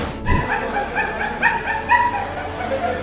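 A dog that fell from a window and is stranded on an air-conditioning unit gives repeated high whimpering yips in short bursts, fairly close, with a low rumble of street background underneath.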